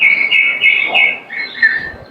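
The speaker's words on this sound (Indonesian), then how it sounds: "Suara burung." Birds chirp and whistle up close in a natural outdoor setting, a run of loud, clear, high tweets with short breaks between them.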